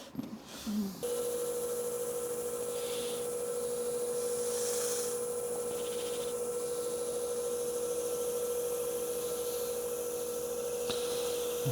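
A hand-finished ash wood vase being buffed, a steady smooth rubbing hiss running on for several seconds alongside a constant machine hum, close and even with no talking.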